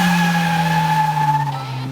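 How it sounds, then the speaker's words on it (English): A Datsun Bluebird SSS coupe spins its tires in a burnout, giving a loud, sustained, tonal squeal that holds steady, then dips and wavers near the end. "You want to do a burnout?"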